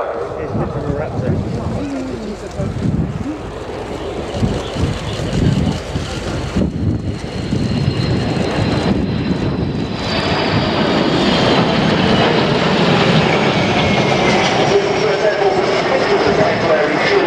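A US Air Force KC-135R tanker passes overhead during an anniversary flypast, its broad jet roar swelling and sustained under heavy wind buffeting on the microphone, with a voice speaking over it.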